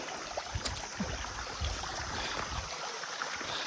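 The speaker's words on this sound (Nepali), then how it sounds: "यता चाहिँ यस्तरी बगिरहेको छ पानी" Water flows along a stream beside a trekking trail, a steady close rushing and gurgling with small splashes throughout, no voices.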